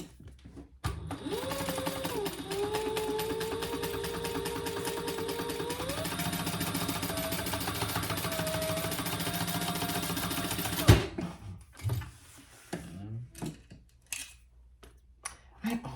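A sewing machine over-stitches a seam on a zippered clutch bag, running steadily and loudly for about ten seconds with a shifting motor whine, then stopping, followed by scattered handling clicks and rustles.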